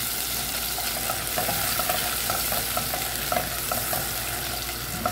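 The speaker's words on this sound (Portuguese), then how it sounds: "Aqui eu vou colocar agora o extrato de tomate." Tomato paste fries with garlic in a home kitchen pan, a continuous close sizzle broken by repeated scraping and clacking strokes of a utensil stirring it through the pan.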